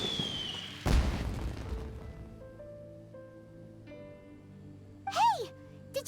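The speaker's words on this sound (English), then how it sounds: "Did you hear that explosion? Maybe it was fireworks." An explosion in a video game: a sudden deep boom bursts out and rumbles away, followed by sustained tones and a bright rising-falling chime near the end.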